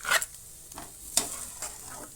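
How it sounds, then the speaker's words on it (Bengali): Fried paneer is gently stirred into a spiced filling for paneer rolls: three or four quick scraping strokes of a spoon in a pan over a faint sizzle, close by. "পনিরটা দিয়ে হালকা হাতে মিশিয়ে নিতে হবে"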